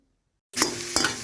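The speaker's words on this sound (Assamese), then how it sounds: "মাংসখিনি অলপ দেৰি এনেদৰে লৰাই ভাজি থাকিম" Chicken meat stirred and fried in a pan starts abruptly after a silent half second, then a close, hissing sizzle with a sharper scrape of the spoon near the end.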